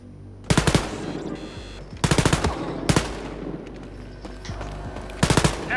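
Rapid automatic gunfire in the video game Wolfenstein: Youngblood, several short loud bursts of three or four shots each, spaced a second or so apart.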